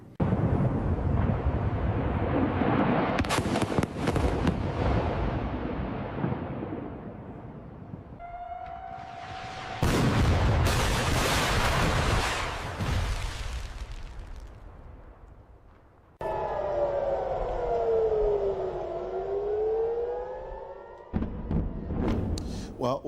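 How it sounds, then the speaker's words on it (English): Missiles being intercepted in the sky over Israel: loud booming bursts and rumbling blasts, with a wavering air-raid siren rising and falling later on. Voices speak at times. "These are missiles being intercepted in the skies in Israel."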